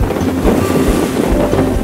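Sailboat under way in strong wind, with a loud steady rush of wind across the microphone and water washing against the hull, close and continuous.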